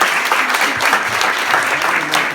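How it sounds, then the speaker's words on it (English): Audience applause during a film festival Q&A in New York, a steady dense burst of clapping from a crowd lasting the whole moment, fairly loud and close. "One big applause, please."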